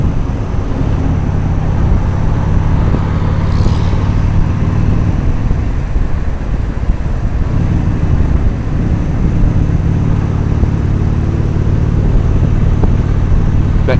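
A Harley-Davidson motorcycle riding along Sunset Boulevard in Los Angeles, its engine rumble and wind roar loud and continuous from close by, with steady road noise throughout.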